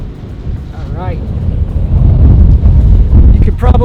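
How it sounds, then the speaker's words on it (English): Gusty wind buffets a Rode Video Mic with low rumbling bursts that grow stronger, while a person talks over it. "Struggling to talk with this wind blowing in my face."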